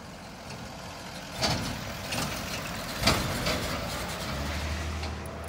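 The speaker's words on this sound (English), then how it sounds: "The FedEx truck is here." A FedEx delivery truck pulls up nearby, a steady engine rumble with two brief sharp hiss or clank bursts and a low idle hum settling in at the end.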